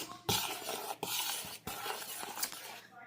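Flour, salt and other dry ingredients for chocolate chip banana bread are stirred in a bowl with a utensil, producing soft, faint scraping and brushing strokes in a quick, uneven rhythm.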